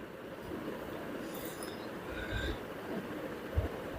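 A train running on rails makes a steady rumble with a faint squeal of wheels, heard from inside a carriage.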